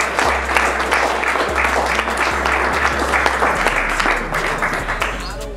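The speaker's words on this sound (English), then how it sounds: "I want everyone here to give themselves a big round of applause" A crowd applauds at an outdoor march and performance event in New York City, sustained clapping from many people with a low rumbling hum beneath and some voices mixed in.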